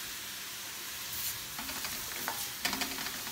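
Curry powder stirred and folded into vegetables in a hot pan: a steady, close sizzle of frying with scattered scrapes and soft clatters of the spoon against the pan, and no voices.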